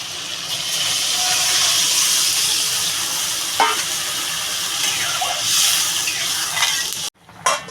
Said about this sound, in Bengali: আমি এবার পরিমাণ মতো জল দিয়ে দেবো